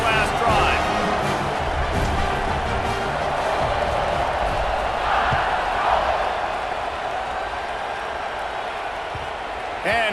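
A large football stadium crowd at a Georgia versus Alabama game roars steadily for about ten seconds, a dense distant wash of cheering under continuous commentary talk.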